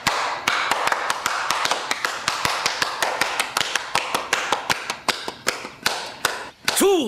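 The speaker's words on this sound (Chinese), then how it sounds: "给你姐拍拍手" A single person claps hands in a steady run of sharp, close claps, about four per second, continuing throughout with no talk.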